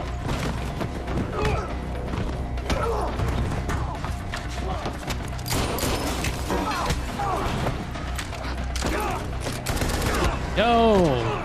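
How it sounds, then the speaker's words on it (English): Gunfire in the Quantum Break video game, rapid shots and impacts under constant voices, with loud action effects all the way through. "Yo, using live guns?"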